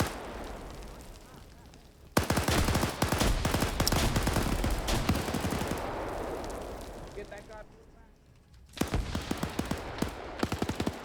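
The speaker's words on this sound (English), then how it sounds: "Now they're opening up with the assault rifle." Assault rifle gunfire in a WW2 German-themed skirmish game: dense, rapid bursts break out suddenly, roll on for several seconds, pause briefly, then resume, with voices mixed in.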